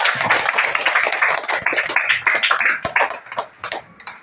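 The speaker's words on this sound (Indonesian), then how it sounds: "beri tepuk tangan dulu untuk hari ini" Classroom children clap their hands together in a dense, continuous burst of claps lasting several seconds, close and fairly loud, with scattered young voices mixed in.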